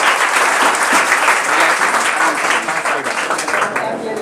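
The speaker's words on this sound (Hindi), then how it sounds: "जोरदार तालियों से" Loud, sustained audience applause at a prize distribution ceremony for Bihar board matric exam 2025 toppers, dense clapping filling the hall and tapering slightly toward the end, with no voices over it.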